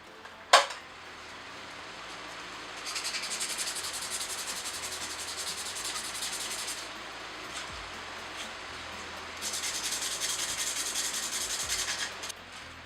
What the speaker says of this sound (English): And now we will sand that thing down, and then we'll see the result